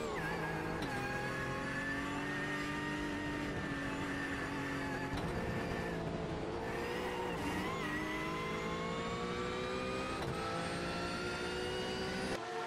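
A race car accelerating around Sebring in the iRacing video game, its engine whining steadily as it climbs through the gears. The sound is continuous and loud, with harmonic tones rising and dropping at a few brief shift points.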